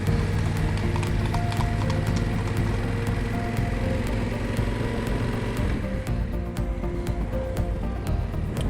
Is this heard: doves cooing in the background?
no